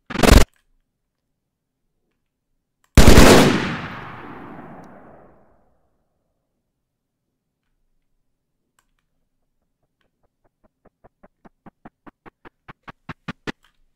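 Edited gunshot sound effects in Premiere Pro: a sharp single shot, then a louder blast with a decaying tail, and later a rapid accelerating series of short clicks growing louder, separated by silence.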